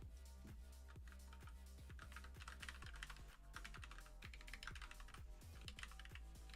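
Continuous typing on a computer keyboard during a SwiftUI iOS coding session, with steady rapid key clicks and regular heavier thumps throughout, no talking.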